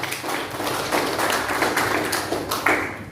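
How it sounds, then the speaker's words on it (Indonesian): Applause from a seminar audience at a lecture on thesis writing, dense clapping that runs continuously and steadily, fairly close and moderately loud, with no voices over it. "Oke, tepukan dulu."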